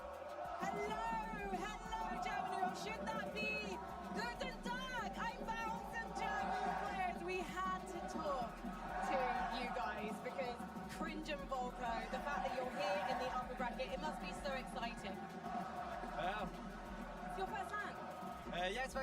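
A crowd at a Fortnite FNCS Summit Finals LAN tournament fills a large venue with steady chatter, occasional whoops and cheers, heard at moderate distance beneath nearby people talking.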